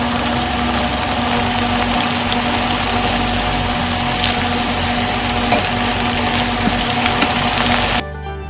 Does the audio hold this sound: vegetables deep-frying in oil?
yes